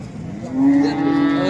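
A large cow at a cattle market lets out a single long, low moo that swells and holds over steady outdoor background noise, fairly close and loud.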